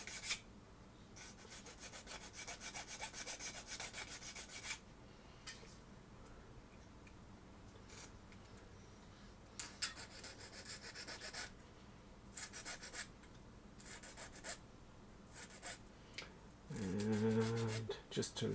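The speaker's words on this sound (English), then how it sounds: "And then a little filing here." A small hand file rasps at a plastic kitbash model part for a three-wheeler vehicle, in several bursts of quick, scratchy back-and-forth strokes separated by quieter pauses, close and fairly soft, with a brief voice near the end.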